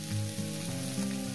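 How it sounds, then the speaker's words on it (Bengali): Vegetables sizzling in plenty of hot oil for pumpkin bharta, a steady close crackle and hiss throughout with no voices. "আস্তে আস্তে সব কিছু ভাজা হয়ে যাচ্ছে"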